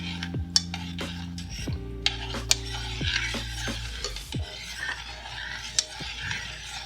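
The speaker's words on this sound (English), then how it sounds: "Now we'll give that a stir" A spoon stirring vegetable stew in a pot, with scattered sharp clinks and scrapes of utensil against metal over a soft bubbling hiss, fairly quiet and close.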